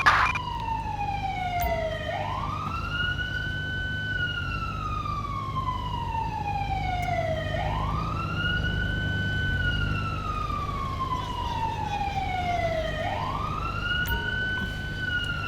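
An ambulance siren from the video game GTA V with the LSPDFR mod wails loud and steady, rising and falling in long sweeping cycles throughout with no talking over it.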